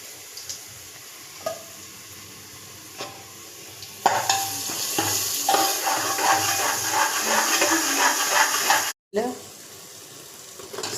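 Ground spice paste tipped into a hot pan for soybean masala rice, bursting into loud close sizzling and frying with stirring scrapes after a few quiet clinks.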